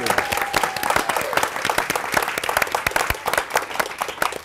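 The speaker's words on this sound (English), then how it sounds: "Let's give her a round of applause." An audience at a university chair launch applauds a professor with a steady, dense round of clapping from many hands throughout, briefly mixed with a faint tone near the start.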